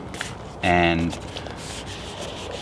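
A brief rasping stroke of wet sanding on a surface, a single loud half-second rub set against quieter background, with a voice speaking briefly.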